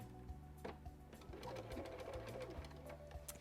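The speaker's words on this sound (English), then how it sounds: "So let's drop our needle, back stitch at the beginning and end." A sewing machine stitches a sleeve into an armhole with a back stitch at the start. The motor hums steadily and the needle chatters in rapid bursts with brief pauses, close but faint, with no talking.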